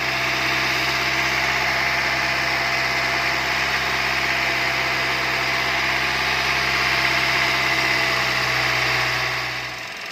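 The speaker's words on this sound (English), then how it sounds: "So this is the engine right after we let it idle" A car's direct-injection petrol engine idles right after a GDI carbon-cleaning service, a steady, even hum with constant low drone and vibration throughout, close and alone, dropping off slightly at the very end.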